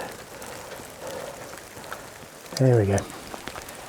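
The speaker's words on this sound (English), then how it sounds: "here comes the rain." Light rain starts falling during a landscape photography outing, giving a soft patter under a quiet outdoor background. A brief spoken remark cuts in near the end.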